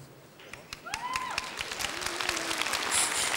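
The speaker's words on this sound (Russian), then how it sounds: "Давайте встречать аплодисментами наших победителей!" An audience at the Viva 2010 awards ceremony applauds to greet the winners, with a swell of clapping that builds and thickens toward the end while a voice briefly sounds over the crowd.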